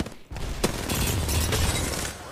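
Gunfire in the video game Apex Legends, a loud continuous burst of rapid shots with sharp cracks over a rumbling low end, close and dense for a couple of seconds.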